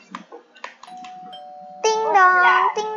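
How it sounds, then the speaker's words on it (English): A doorbell rings inside the Roblox game Welcome to Bloxburg. A steady electronic tone holds first, then a louder, richer two-note chime rings out, close and clear. "Doorbell."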